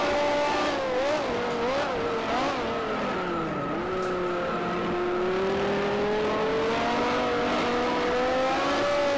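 Race car engines in the Grand Prix Legends sim roar loud and close, their pitch swooping up and down through gear changes and cornering, holding a sustained high drone toward the end.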